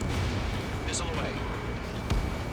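A missile launched from a jet in Ace Combat 7 cuts through a constant roar of flight, a short sharp thump near the end standing out over the noise, with a voice talking nearby.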